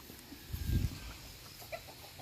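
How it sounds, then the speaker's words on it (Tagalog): Chickens at a riverside campsite in Porac, Pampanga cluck softly, a few faint scattered calls over quiet outdoor ambience with a low thump near the start. "May mga manok, oh."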